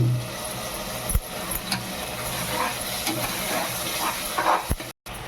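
Onion, tomato and ground masala sauté in oil over high flame for mint pulao, making a steady close sizzling hiss with a few sharp clinks of a utensil against the pan.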